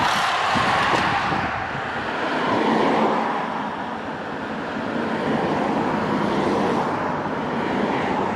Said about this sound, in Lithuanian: Pro mane pravažiuoja plentininkų peletonas.